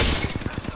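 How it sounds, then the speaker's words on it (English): Enemy armor shattering during an Apex Legends firefight, a dense crunchy burst of breaking and crackling impacts with rapid repeated hits layered over constant game noise. "Broke his armor"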